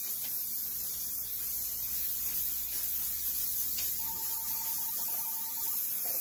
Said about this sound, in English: Okay, so I'm just going to give it a good spray.